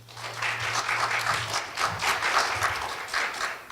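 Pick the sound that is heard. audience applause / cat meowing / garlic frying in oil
audience applause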